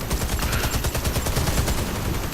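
Rapid bursts of automatic gunfire from a tactical shooter video game, loud and dense, like overlapping rifle fire, continuing without a break and with no voices over it.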